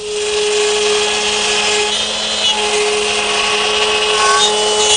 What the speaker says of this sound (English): I think I have better control of the router using 2 passes